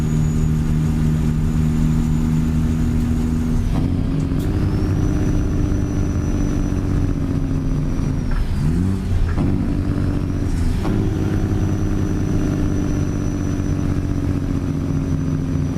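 A heavy truck's engine brake growls in an owner-operator truck driving simulator: a steady, loud, low engine drone that dips and shifts pitch a few times as the truck slows, with no talking.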